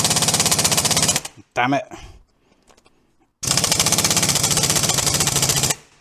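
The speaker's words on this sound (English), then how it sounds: "these windy guns I've got are rubbish" Pneumatic impact wrench working on a car, firing two long, loud rattling bursts close by with a short pause between, and a man muttering briefly in the gap.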